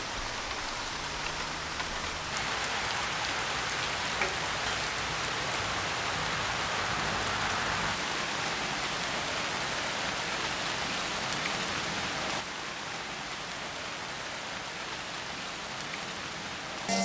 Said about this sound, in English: It has been a rainy season so far, and this was a rainy Sunday